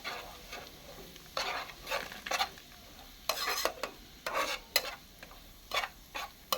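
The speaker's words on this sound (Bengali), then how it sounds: "হালকা আঁচে করতে হবে, ভাজতে হবে সুজিটা।" Semolina being stirred and fried in ghee over a low flame in a pan, with a faint steady sizzle and repeated scraping strokes of the spoon coming in irregular bursts, up close and with no talking.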